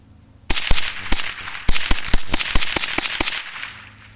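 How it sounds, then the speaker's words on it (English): Eleven rapid, loud rifle shots fired at a target, sharp cracks close together over about three seconds with uneven spacing, then the echo fades. "I'm going to rattle off all 11 rounds at the target"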